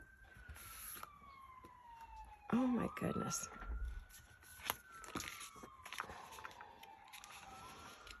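Emergency vehicle sirens wail near a hospital by a major intersection, a distant rising-and-falling tone sweeping across the whole stretch over traffic noise, while a woman briefly exclaims.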